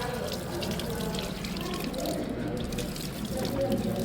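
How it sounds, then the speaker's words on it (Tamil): Tap water runs steadily into a sink while hands are washed, a close continuous splashing rush with faint background voices. "இப்போ கையை கழுவுங்க"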